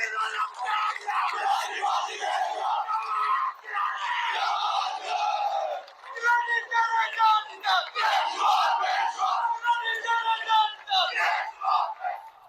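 A dense crowd chants and yells political slogans at an event at Aitchison College, loud, continuous, overlapping voices rising in rhythmic bursts throughout, with a brief dip midway before the chanting surges again.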